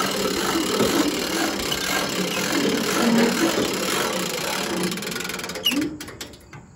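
Hydraulic elevator on a Japa 365 Pro firewood processor rising, a steady mechanical whir and hum that holds level, then tapers off with a few clunks near the end.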